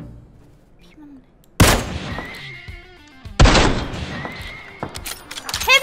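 Two loud, sharp sniper rifle shots in a PUBG-style shooter game, about two seconds apart, each ringing out over quieter in-game ambience and effects.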